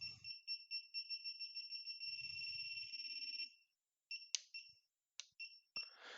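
A metal detecting pinpointer ring gives a rapid run of high electronic beeps that merge into a continuous tone, then stops and returns in short separate chirps, faint and close.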